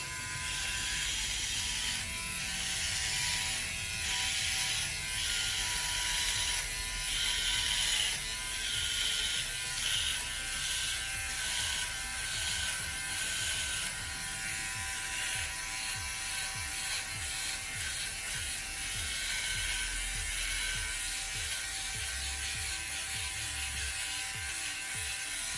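A Philips OneBlade Pro electric trimmer edges a beard, giving a continuous high buzzing hum with a crackling, rasping texture as it cuts through whiskers. The sound is close, steady and unbroken throughout, with no talking.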